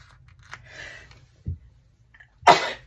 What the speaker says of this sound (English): And then I'm gonna sneeze, I can feel it.